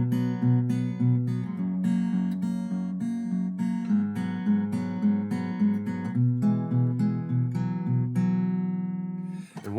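An acoustic guitar plays a repeating fingerpicked chord pattern for a song: steady, evenly spaced plucked notes over a low bass line, close and clear, with no voices.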